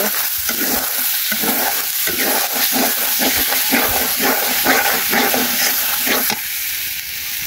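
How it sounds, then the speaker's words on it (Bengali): Chicken curry is stirred and fried over a clay stove in a village kitchen, with loud continuous sizzling and repeated scraping spoon strokes, close up with no talk. "আমি রান্না করতে বসলাম, আর এই যে রান্না করতেছি মুরগির মাংস"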